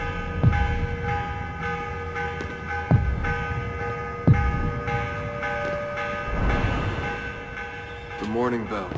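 A morning bell tolls in Assassin's Creed: Revelations with four or five spaced, resonant strikes ringing out over a low background hum, and the last strikes fade under a voice.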